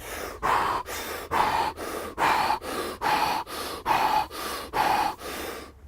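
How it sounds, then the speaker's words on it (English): Rapid, forceful breathing only through the mouth, a demonstration of stress-response sympathetic nervous system breathing: about eleven quick, even breaths in steady rhythm, close and loud, with no talking. "sympathetic nervous system breathing, which is breathing only through your mouth."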